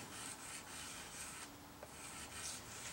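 Steady hand sanding of the orange-peel finish on a Les Paul Junior style guitar body, a continuous soft scraping rub with slight rhythmic strokes, close and fairly quiet, with no talking.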